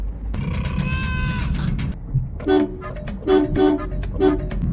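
A vehicle horn toots several times in short, uneven bursts over a steady engine and road rumble, fairly close.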